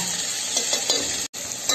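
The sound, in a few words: spice paste masala sizzling while being fried and stirred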